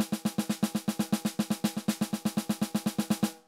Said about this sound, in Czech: Pojďme si rovnou říct o největším problému elektronických bicích obecně, a to je machine gunning.